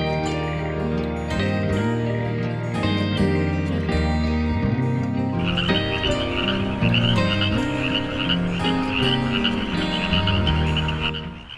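Frogs and toads croak steadily and densely in a loud, continuous chorus of overlapping calls, close and without any talking.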